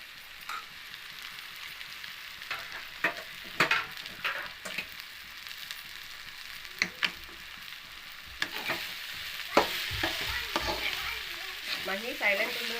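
Small bitter gourds fry in a pan with a steady soft sizzle, punctuated by scattered scrapes and clinks of stirring, growing louder and busier toward the end.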